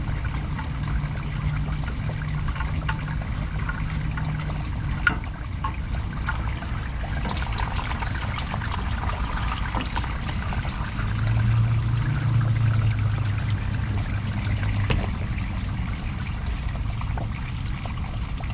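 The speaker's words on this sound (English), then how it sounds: "So we're just gonna let it drain" Engine oil drains from a Honda V6 in a steady, continuous trickle that swells slightly midway, with no one talking.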